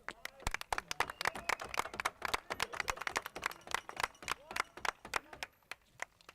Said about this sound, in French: Et ça, je pense qu'on peut l'applaudir.